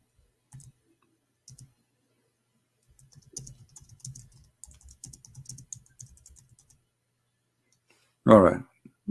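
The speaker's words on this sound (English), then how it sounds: "Look like there's a delay in typing for some reason in this software." Keys click on a computer keyboard, first in a few sparse taps and then a longer run of soft, close typing, before a short loud burst of voice near the end.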